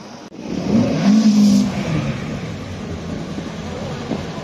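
At a car meet in Kilrea, a car accelerates and revs hard, rising to a loud, close engine roar early on before settling into a sustained rumble that trails off.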